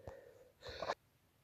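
Sneeze from a person having an allergic reaction, a short explosive burst lasting under half a second after a faint intake of breath, close to the microphone with no talk.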